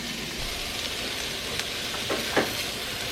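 Beef stew meat browning in a hot pan on a gas stove gives a steady, broadband sizzle throughout, with a few brief spatters or utensil scrapes near the end.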